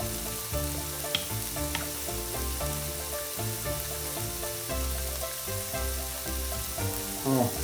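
A Sichuan ants-climbing-a-tree dish sizzles steadily in a pan while it is stirred, the continuous frying hiss punctuated by occasional scrapes and knocks of a utensil, with no talk.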